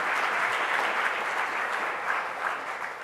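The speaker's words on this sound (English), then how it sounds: "Please join me one more time in giving them a round of applause." An audience applauds prize laureates at an award event, with steady, dense clapping from a large crowd that fills the whole moment at even loudness without any talk.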